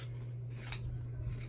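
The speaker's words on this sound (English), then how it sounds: "Grab my good scissors" Scissors snip through fabric in a few quiet cuts, close by, over a steady low hum.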